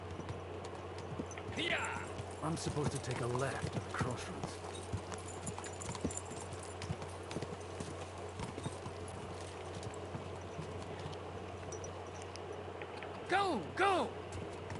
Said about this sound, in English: Especially the horse riding.